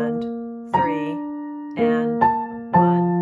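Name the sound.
piano playing Beethoven Für Elise B section slowly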